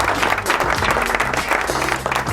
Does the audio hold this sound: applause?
yes